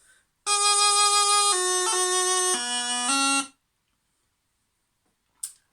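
Bagpipe playing a short phrase of about five chanter notes over a continuous drone, loud and unaccompanied, cutting off cleanly and followed by silence and a faint click.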